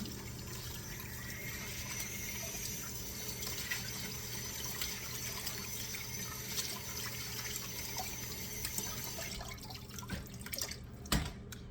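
Tap water runs steadily as cabbage is rinsed under it, with occasional splashes and drips near the end, no talking.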